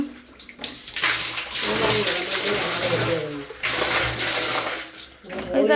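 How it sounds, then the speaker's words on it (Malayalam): A bucket of water is poured down into a well during manual well cleaning, a loud splashing gush that runs for several seconds before tapering off. "ഒരു ബക്കറ്റ് വെള്ളം ഒഴിക്കുവാണേ."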